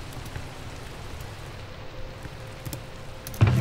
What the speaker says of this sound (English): And it's raining, hooray!